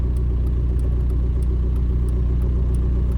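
A TDI Jeep Wrangler with an AW4 automatic transmission and a new torque converter driving along, heard from inside as a steady, loud low engine rumble and road drone with no break.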